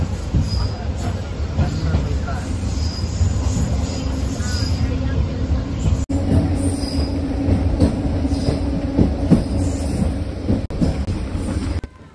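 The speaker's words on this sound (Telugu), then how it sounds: "మన ట్రైన్ అయితే తడా స్టేషన్కి అయితే రీచ్ అయ్యి మళ్ళీ బయలుదేరి కూడా వెళ్ళిపోతుంది" A MEMU Express train runs steadily on the rails near Tada station on the Chennai to Bitragunta line, with a loud continuous rumble, wheel noise and high squeal throughout, heard from inside.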